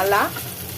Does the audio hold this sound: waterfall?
no